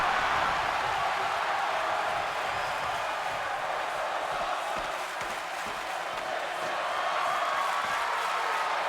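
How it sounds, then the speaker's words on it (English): A wrestling crowd on its feet keeps up a dense, loud roar of cheering with scattered clapping, steady throughout. "The crowd all on their feet. I haven't heard them be quiet this whole match, Jeff."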